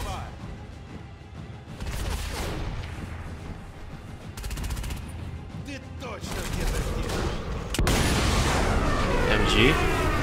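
Gunfire rings out in Sniper Elite V2 in loud, dense bursts with booming impacts, and a voice talks over parts of the shooting.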